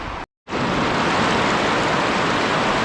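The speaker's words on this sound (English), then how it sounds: "So I'm out in the middle of the river here" A wilderness river rushes loudly and steadily around a person standing mid-stream, a broad constant roar broken only by a brief dropout near the start.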